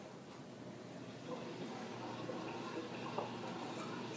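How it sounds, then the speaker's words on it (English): A dishwasher runs in a home kitchen, a low steady wash of churning water and hiss filling the background at moderate-to-faint level, with no voices over it. "Sorry for the dishwasher noise."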